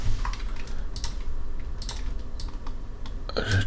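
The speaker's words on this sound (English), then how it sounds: "now let's type our text" Quick bursts of typing on a computer keyboard, close and crisp clicks in uneven runs with short pauses between, alone without speech.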